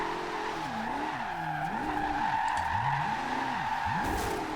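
A Porsche 918 hypercar drifting in Forza Horizon 2 squeals its tires in long wavering skids that rise and fall repeatedly over a steady engine drone, with no one talking.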